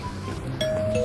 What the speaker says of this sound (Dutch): Ja, ik bel wel even aan,